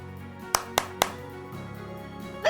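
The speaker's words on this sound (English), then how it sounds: "She wiped away her tears and clapped her hands together." Three sharp, separate hand claps in quick succession, loud and close, followed by a quiet room with low background hum and a faint sound at the very end.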